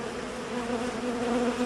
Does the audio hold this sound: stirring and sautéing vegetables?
no